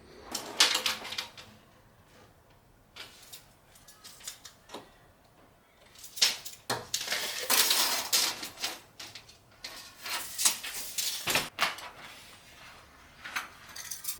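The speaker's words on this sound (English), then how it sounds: "I'll cut up my piece of window tint" Window tint film being cut to size by hand for a DIY window tint job: a series of crisp, sharp slicing and crinkling strokes, close and fairly loud, some brief and some longer sweeps, with no talking.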